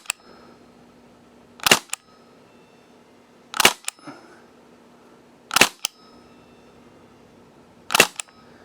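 An Elite Force IWI Mini Uzi airsoft gun fires four sharp, isolated single shots spaced about two seconds apart, each a crisp close crack with a faint mechanical click after it, against near silence.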